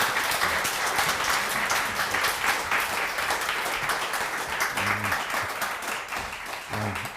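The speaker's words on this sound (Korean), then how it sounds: "우리 처음이니까 박수로 환영하면 좋겠습니다" A church congregation at a Sunday worship service applauds steadily to welcome a visiting pastor, dense many-handed clapping sustained throughout at a moderate distance.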